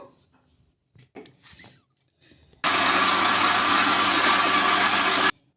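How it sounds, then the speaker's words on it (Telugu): A kitchen mixer grinder blending ridge gourd with wheat rava and a little water into batter, starting after a few quiet handling knocks and then roaring steadily and loudly at close range before stopping sharply. "ఇలా నీళ్ళు అయితే వేసుకొని మిక్సీ పట్టేసుకుందాము"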